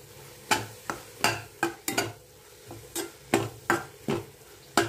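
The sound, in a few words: stirring tomato and spice powders together in a pan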